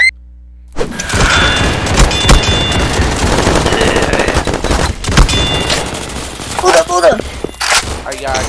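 Rapid automatic gunfire in a video game: after a brief silent start, a loud, dense stream of fast shots runs almost nonstop, broken by a few heavier thuds and near the end by shouting voices.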